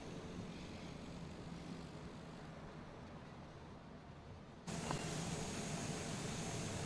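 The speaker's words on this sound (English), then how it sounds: "I do like watching it taxiing into place." Airliner engines droning steadily while taxiing in Microsoft Flight Simulator, a constant broadband roar that jumps louder partway through, no speech.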